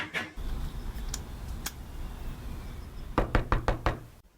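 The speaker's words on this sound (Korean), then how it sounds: "대답 없는 집 앞에서 한참 문을 두드립니다." Knocking on the front door of an empty house by a utility meter reader, a few scattered raps early, then a quick run of five or six loud, close knocks near the end over low background hum.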